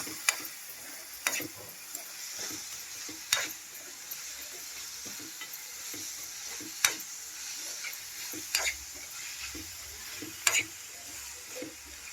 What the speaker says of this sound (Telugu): ఒక 5 నిమిషాల పాటు మనం మగ్గించుకుందామండి ఉల్లిపాయలు.